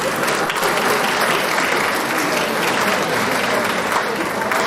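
An audience at an awards ceremony applauds warmly, a dense, steady clapping that fills the whole stretch at an even level, with no speech above it.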